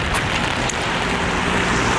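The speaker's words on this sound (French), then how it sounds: "Il pleut vraiment, c'est pas une petite pluie" Heavy rain pours down in a dense, steady hiss that fills the whole stretch, close and loud, with no voices.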